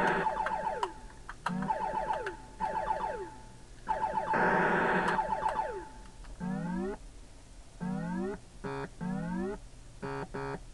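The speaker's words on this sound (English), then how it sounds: "As you can hear there, the alarms are already going that I'm about to die." Beeping alarm tones from the Intellivision game Space Battle repeat in short electronic bursts and falling warbles, alternating with fast sweeping chirps, all fairly quiet with no talk.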